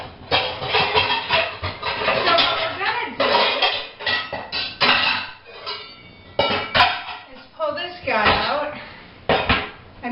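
Pots and pans clatter and clank in a home kitchen as cookware is gathered for spaghetti sauce, in loud, close bursts of metallic banging. A person talks between and over the handling.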